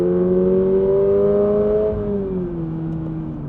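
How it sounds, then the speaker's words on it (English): Toyota GR86 boxer four-cylinder exhaust droning under load: a loud, steady harmonic tone that holds pitch, then eases lower as the revs drop off. "this exhaust does drone"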